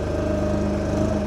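A VMENG 25HP hydraulic mulcher runs close and loud as a steady droning engine hum with a constant pitch, and the hydraulic flow is cut partway through.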